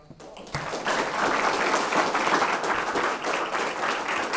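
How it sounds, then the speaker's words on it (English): Audience applause fills the hall after a student lecture, a sustained burst of clapping that starts abruptly and holds steady at close range. "Let's give you a round of"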